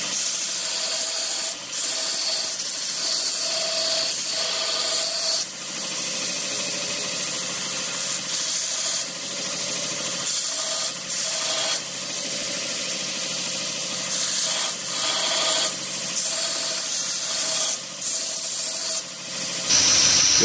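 A heat-treated, tempered forged herb cutter is rough ground on a 36 grit belt grinder, giving a loud continuous abrasive hiss and whine with brief dips and swells as the blade is pressed and lifted.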